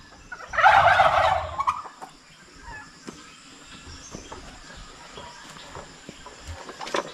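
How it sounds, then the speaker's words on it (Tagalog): A turkey lets out a loud, close gobble near the start, followed by quieter farmyard sounds and light rustling. "Dito may pabo."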